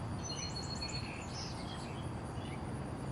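Faint, high bird chirps come in a few scattered short runs over a steady, even background hiss, with no one talking.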